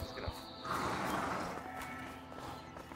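Horse in the video game A Way Out, a continuous snorting, breathy rumble with soft hoof clip-clop, close and moderately loud over a steady game ambience.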